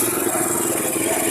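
A Classic 250 motorcycle engine runs steadily after starting, a close, loud, even drone without pauses.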